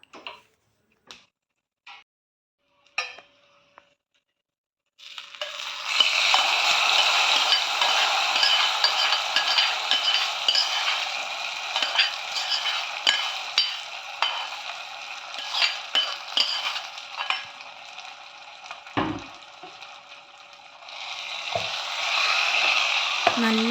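Browned roasted coconut scattered into a Malabar-style koottucurry and mixed with a spoon, a few light clinks at first, then a long steady sizzle with stirring scrapes and taps near the pot.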